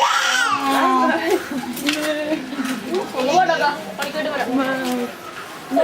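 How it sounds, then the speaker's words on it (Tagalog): A young child cries and whimpers in sobbing bursts at close range, on a cruise or day-trip outing in Cochin, India, with adults talking nearby. "Oh, why are you crying?"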